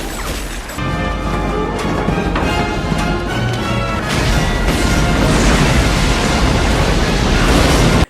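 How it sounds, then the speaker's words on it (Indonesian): A homemade bomb blows up a hideout in a film scene: a loud, sustained crashing blast and rumble fills the whole stretch, layered with dramatic music and no talk. "ia menggunakan bom rakitannya untuk meledakkan markas dan memusnahkan semua barang bukti"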